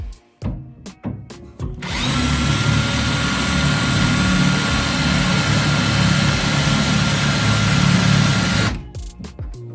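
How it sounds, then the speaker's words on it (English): A power drill whines steadily for several seconds at close range, drilling pilot holes in a wooden batten, with short knocks and handling noises before and after. "I'm just going to drill some pilot holes in the batten."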